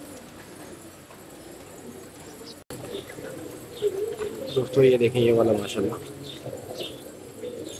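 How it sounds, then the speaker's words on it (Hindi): White Bar pigeons, an expensive breed, coo in a few low rolling calls that rise and subside, heard under someone talking near a loft setup. "बहुत ही एक्सपेंसिव और बहुत ही महंगे कबूतर हैं वाइट बार"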